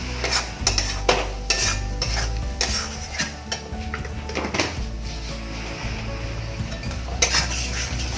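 A spoon stirs sugar into chicken curry in a pan, making repeated close scraping and clinking strokes against the metal over a faint sizzle, with no talk.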